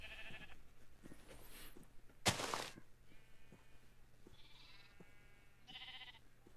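Several sheep bleat from a video game, with harmonic calls at the start, at about the four- and five-second marks, and near the end. A sharp thunk cuts through the middle over a low steady background hum.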